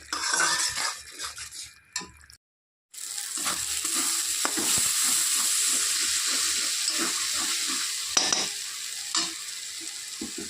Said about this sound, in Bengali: সব কিছু ভালো করে কষিয়ে নিতে হবে